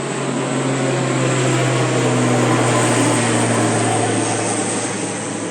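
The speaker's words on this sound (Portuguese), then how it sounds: "Passou um avião aqui, nós estamos perto do aeroporto." Airplane passing overhead near an airport: a loud, continuous engine roar with a steady low drone and broad rushing noise, sustained without talk.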